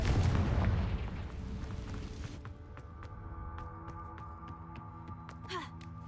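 Confringo explosive spell cast in Hogwarts Legacy: a loud deep boom at the start decays into a rumbling tail, followed by a low hum with faint game effects.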